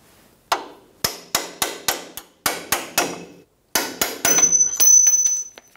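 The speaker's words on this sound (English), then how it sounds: "Using a punch, we're going to push the bolt through the shock." A hammer repeatedly strikes a metal punch to drive a bolt through the lower mount of a 2005-2010 Toyota Tacoma front strut, giving loud, sharp ringing metallic blows in irregular bursts, with a brief high tone near the end.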